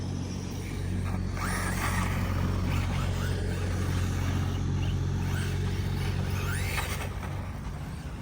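A mini Kraton RC truck drives over outdoor terrain, its electric motor giving a steady buzzing drone with a faint whine over continuous low rumble.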